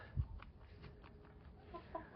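Chickens cluck softly nearby, a few low murmuring clucks over a quiet rustling background.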